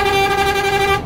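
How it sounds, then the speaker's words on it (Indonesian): A bus horn sounds one loud, sustained, rich tone for about a second, blasting close by as the bus leaves Purwokerto terminal and greets waiting passengers. "menyapa pelanggan dengan klakson andalan Mas Ali ya."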